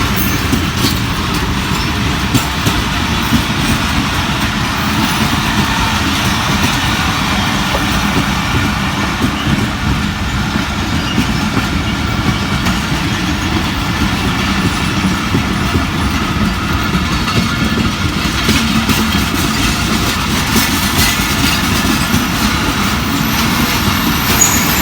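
The Pakistan Express at Tando Adam railway station, a steady heavy rumble of the train running close and loud throughout with no talking.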